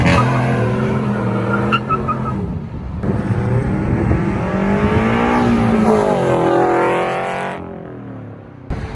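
A loud car speeds past near a highway, engine roar rising and sweeping through as it approaches and passes close by, then falling away before another vehicle sound begins at the end.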